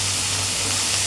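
Coconut milk poured into a hot pan for bhuna, giving a steady, close sizzle and frying hiss with a low continuous hum beneath, no voices.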